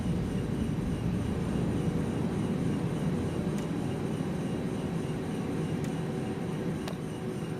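An Airbus A319 airliner on its takeoff roll, heard as a loud, steady engine roar and rumble that holds even for the whole stretch, with a few faint clicks on top.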